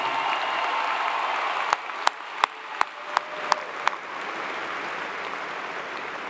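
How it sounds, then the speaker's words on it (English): Sustained crowd applause at a Clemson University fall graduation ceremony honoring new master's degree recipients, a dense even roar of many hands with several sharp isolated claps popping out near the middle. "How about another loud round of applause for our newest master's degree recipients?"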